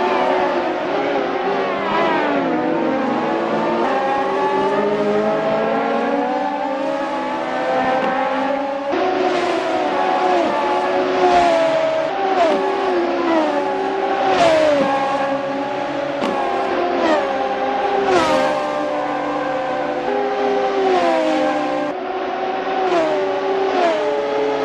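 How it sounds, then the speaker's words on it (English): Radical SR3 race cars racing at Mont Tremblant, high-revving engines roaring continuously with rising pitch sweeps through gear changes as cars chase each other closely, loud throughout. "It's a classic case of chasing down the car ahead for Wayne Pearson, who is currently in P6."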